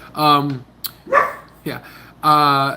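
A pet dog barks in short sharp bursts, three or four close yips and barks spaced across a few seconds, with someone briefly speaking between them indoors.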